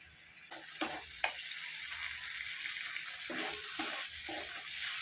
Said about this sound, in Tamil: தக்காளி போட்டு நம்ம நல்லா வதக்கிக்கலாம்